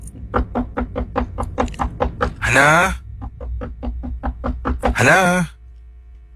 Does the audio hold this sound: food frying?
no